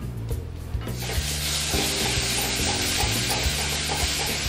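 Masala sundal being stirred in a sizzling pan, a steady frying hiss with repeated scraping strokes of the spoon at a regular rhythm, close and continuous.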